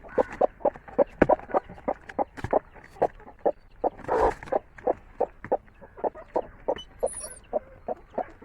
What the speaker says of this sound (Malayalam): നമുക്ക് ഇനി ബാക്കി കോഴികളെയൊക്കെ ഓരോന്നോരോന്ന് ആയിട്ട് നമുക്ക് അട വെക്കാം